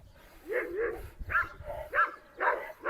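A dog barks while attacking a female dog, giving about five or six loud, close barks in uneven bursts with short gaps between them.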